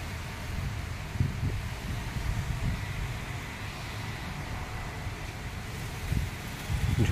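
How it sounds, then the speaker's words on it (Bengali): Strong storm wind buffets the microphone in a steady low roar with gusty surges near the end, heard outdoors at a mission in Deoghar with nothing else prominent. "ঝড় বইছে চারদিকে"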